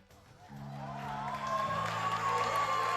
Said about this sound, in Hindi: भरपूर तालियों में इस्तकबाल कीजिए पाकिस्तान आइडियल का